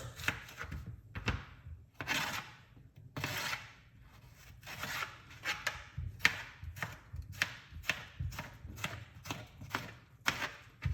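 A knife chops through half a cucumber on a board, a steady run of crisp, close wooden thunks at a brisk, slightly uneven rhythm, with no talking.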